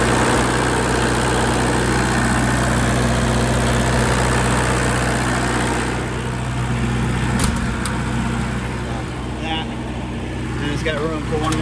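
A bus generator engine mounted under the back of a Blue Bird bus runs steadily with a loud low rumble and idle vibration throughout, while a person talks nearby.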